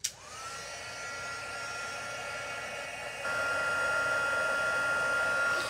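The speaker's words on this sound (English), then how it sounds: "And we'll just heat this up for a minute until it turns." Heat embossing tool blowing hot air to melt embossing powder on a handmade card, a steady loud whooshing hum that starts abruptly and steps up slightly in intensity partway through, with no talking.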